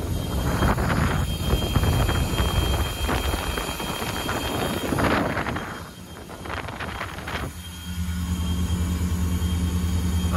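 A Glastron 255 GXL boat with a Volvo Penta 8.1Gi 375 HP engine comes up to plane, giving a steady, strong engine drone mixed with rushing water and wind buffeting. The sound settles into a smoother hum near the end.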